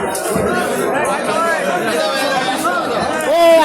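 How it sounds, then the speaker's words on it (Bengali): A dense crowd chatters steadily at Bongaon New Market's fish market on a busy Sunday, with many overlapping voices close by and a louder voice rising near the end. "আজকে রবিবারে বাজার, পুরো মার্কেটটা পুরো ভিড়"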